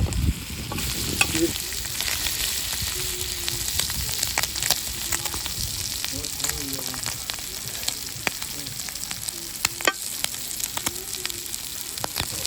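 Squid sizzles and crackles steadily in hot oil, with continuous bubbling and occasional sharp pops, close up.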